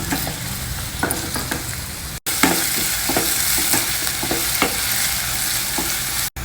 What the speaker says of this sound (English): Fry the onions and green chillies for a few minutes